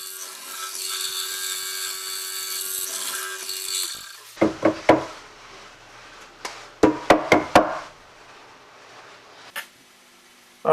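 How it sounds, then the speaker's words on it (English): A mortising machine cuts mortises into wooden coffee table legs: a steady motor drone runs for about four seconds, then a series of sharp, loud chopping thumps and knocks follows in an uneven rhythm, close by with no talk. "the first thing I want to do here is cut my mortises using my mortising machine"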